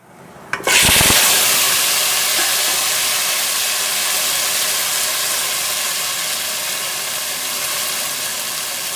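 Pasta tipped into a hot pan of frying onion and chilli: a sharp clatter and thump at the drop, then a loud, steady sizzling hiss that carries on evenly and fades only slightly.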